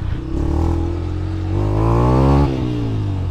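A Verza 150 motorcycle fitted with a loud Tiger aftermarket exhaust revs up hard, the engine note rising steadily then dropping sharply, deep and throaty up close with no one talking.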